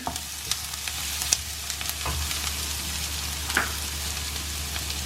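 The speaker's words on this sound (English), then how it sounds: "The onions have to become slightly translucent. We don't have to brown them." Onions fry softly in a pan, a steady low sizzle with scattered small pops and crackles over a quiet background hum.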